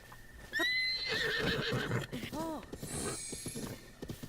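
A horse neighs loudly in Zelda: Breath of the Wild, a rising then falling whinny followed by snorts and clip-clopping hooves, with a player's voice talking over parts of it.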